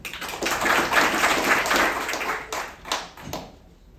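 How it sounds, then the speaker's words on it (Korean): An audience claps for a pastor at a welfare foundation's inauguration ceremony, a brisk burst of clapping that builds, holds, then thins into a few scattered final claps and silence. "이분에게 박수합니다."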